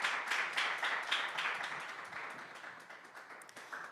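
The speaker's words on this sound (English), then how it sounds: "Let's give all of our sponsors a round of applause." An event audience applauding sponsors at a diversity and inclusion award presentation, a moderate, steady patter of many hands clapping that gradually thins and fades over a few seconds.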